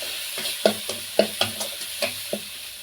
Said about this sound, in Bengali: আবারও আমি এইভাবে কিছুক্ষণ কষিয়ে নেব